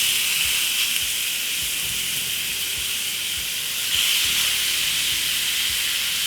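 Pork steaks on a hot, already-oiled grill pan over medium heat give off a steady, close, bright hissing sizzle that runs unbroken throughout, with faint pops and ticks underneath and no talking.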